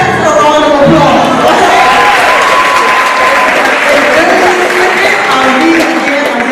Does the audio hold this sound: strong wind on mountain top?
no